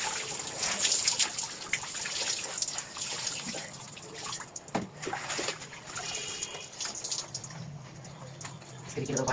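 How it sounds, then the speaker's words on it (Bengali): Water running and falling in a steady trickling splash, close and continuous, with faint voices in the background. "এদিকে তাকাও বাবা জল পড়তিছে"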